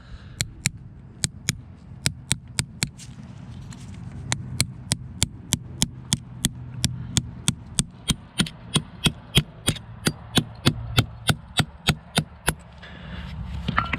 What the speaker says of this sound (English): You put the roll pin punch in the end of the roll pin and hammer it back down until it's flush.